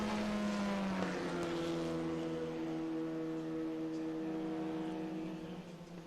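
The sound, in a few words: race cars starting a race at VIR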